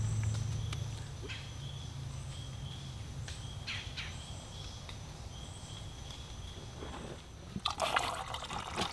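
Water trickles and drips steadily while bottles are filled at an outdoor backpacking campsite in Wayne National Forest, Ohio, with faint insect chirps in the background and a few louder splashes near the end.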